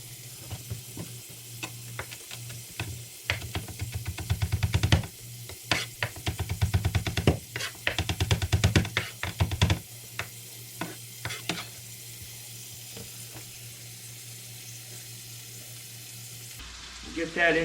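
Garlic sizzling in a hot skillet for a Cajun sausage and rice dish, a close crackling fry with bursts of stirring and scraping, settling into a softer steady hiss.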